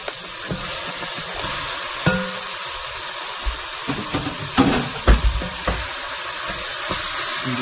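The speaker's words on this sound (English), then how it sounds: "You just start breaking up the meat." Ground meat sizzles in a pan with softened onions for chili, a steady frying hiss broken by scraping and clacking as a utensil breaks it apart.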